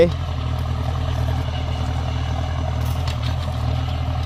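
Tractor engine, a 6640 model, running steadily while ploughing and ridging a field, a low continuous diesel rumble close by with someone talking over it.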